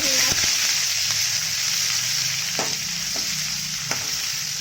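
Garlic ginger paste frying in hot oil, a bright continuous sizzle close up, broken by a few sharp taps and stirring knocks against the pan.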